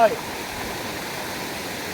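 A tall waterfall roars in a steady, dense rush of falling water, loud and continuous throughout.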